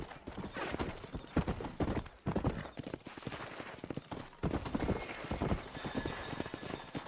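Horse hooves clip-clopping in the game Red Dead Redemption, a steady close rhythm of hoofbeats on the ground with an occasional whinny.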